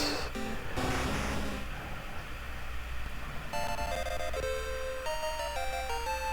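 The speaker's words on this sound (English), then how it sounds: "Charmeleon is evolving." Charmeleon evolving in Pokémon Red, a chiptune evolution jingle of bright, stepping square-wave notes following a burst of buzzy game effects, played loud and alone.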